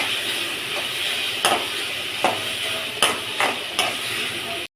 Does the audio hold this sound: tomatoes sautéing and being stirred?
yes